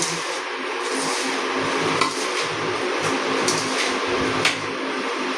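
Pickle spice mix (sambhar masala) is stirred in a dish, giving a continuous gritty rustling scrape with occasional light spoon clinks against the container, close and fairly even throughout.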